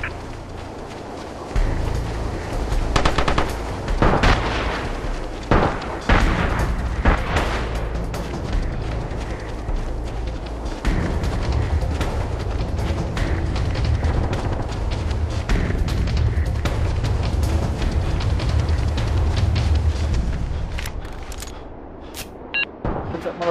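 Gunfire in the video game Socom breaks out in loud bursts and scattered booming shots at the start, then turns into a sustained noisy rumble of continuous firing and movement, with a few sharp cracks near the end.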